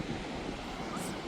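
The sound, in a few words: ocean waves at Baleal Beach, Peniche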